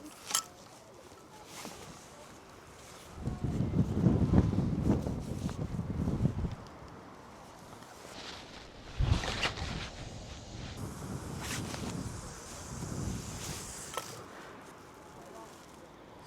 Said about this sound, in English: That wind's died off just a little bit from what it was earlier on.